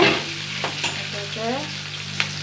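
Curry leaves fry in hot oil in a pan, giving a steady close sizzle with a few brief stirring scrapes and crackles, no talking.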